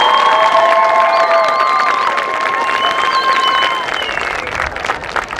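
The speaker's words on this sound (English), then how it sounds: "Please give them a round of applause." Crowd applauds and cheers in the stands at a varsity high school football game, loud and sustained, with shouts and whistles, a few rising whistles near the start, fading slightly toward the end.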